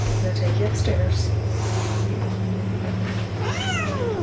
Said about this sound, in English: Get the cat out of there.